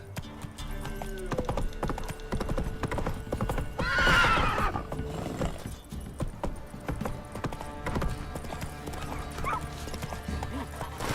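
Roach, the horse in The Witcher 3, gallops with steady clip-clop hoofbeats and lets out a loud whinny near the middle, over continuous game ambience and music.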